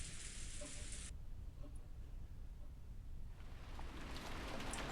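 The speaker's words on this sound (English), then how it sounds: "It was raining hard outside, and Aniki couldn't hold an umbrella" Rain falls steadily as a soft, even hiss of background noise in a visual novel scene, with a brief brighter wash at the start and another building toward the end.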